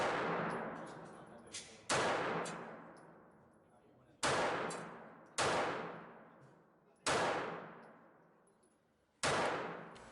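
A Hi-Point CF380 semi-automatic .380 pistol fires six sharp, loud shots at a 25-foot target, spaced irregularly, each crack followed by a long ringing decay.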